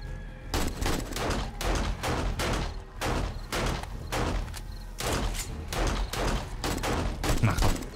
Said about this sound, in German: Ich geh noch mal ein bisschen auf Pistole.